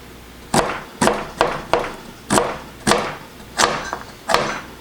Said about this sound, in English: Alright, so let's slice the carrot